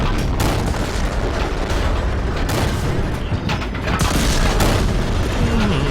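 Tank cannons firing on a KV-1 in a tank battle game: repeated booming shots and impacts over a dense, continuous roar of engine and battle noise, loud throughout, with no talking.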